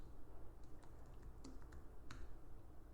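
Light clicking keystrokes on a computer keyboard while entering commands on an Arch Linux system, quick irregular taps spread across a few seconds over a steady background hiss, with no talk.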